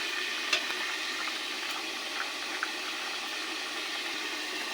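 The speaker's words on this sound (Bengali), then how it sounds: "ঝোল ফুটছে" Curry broth with pumpkin bubbling in a covered pot, a steady soft hiss with a few faint pops and bubbles, continuous and even.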